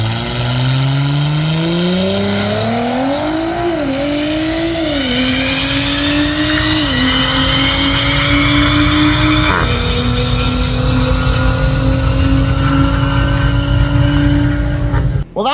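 A tuned Audi with an Integrated Engineering Stage 3+ setup, injectors and E70 fuel makes a quarter-mile run, its engine loud and close as it climbs through the gears, with each shift dropping the pitch before it rises again.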